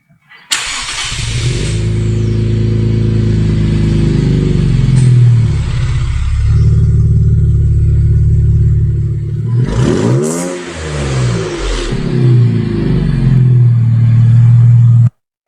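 Car exhaust revving hard through a custom 2.5-inch true dual catback with Flowmaster FlowFX mufflers and black chrome tips on a GT-R, starting up, then holding a loud, sustained deep roar with one dip and swell of revs midway, no talk.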